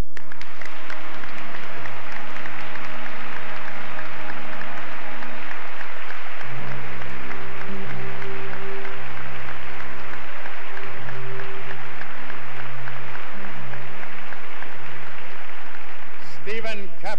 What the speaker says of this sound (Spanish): Para mí es un honor presentar y aplaudir a Peter Graves